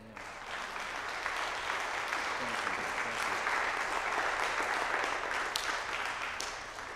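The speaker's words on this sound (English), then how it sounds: "Shall we give him a round of applause?" Church congregation giving a pastor a sustained round of applause, a dense, even wash of many hands clapping for several seconds, moderately loud and without voices.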